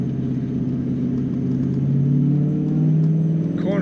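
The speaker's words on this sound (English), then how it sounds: "The whistle of that power adder on the engine just sounds great." A 2001 Ford Mustang with a Sean Hyland Motorsports engine and power adder drives along, its engine a steady, close mid-pitched drone rising slightly as it pulls; any whistle is not clearly distinct.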